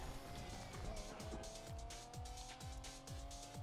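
A car drifts with nitro boost in the Need for Speed Unbound racing game: a loud, steady engine roar with squealing tires, over a repeating low pulse that runs the whole way through.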